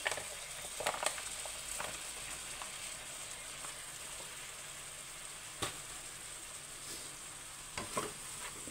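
Milkfish cooks in oil and coconut milk, giving a steady sizzling and bubbling hiss with occasional soft pops and stirring clicks, continuous and close with no talking.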